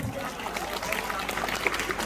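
An audience at a sports awards ceremony gives a short round of applause, a continuous mid-level patter of many hands with a soft, crackling texture.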